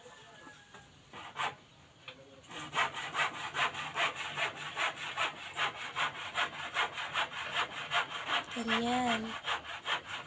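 A hand saw cuts through wood for a goat pen extension in fast, regular back-and-forth strokes, loud and close, after a brief quiet start; a short voice comment comes near the end.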